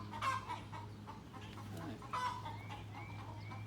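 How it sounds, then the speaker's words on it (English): A tiny Serama rooster weighing about a pound clucks close by in a few short bursts over a low steady hum, with faint chirps in the background. "He's one of the smallest roosters in the world."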